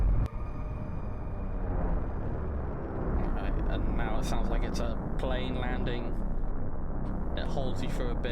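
Deep, steady roar of a plane landing in the video game Rain World, a broad rumbling wash that holds loud throughout with shifting whooshing texture, while a person talks over it.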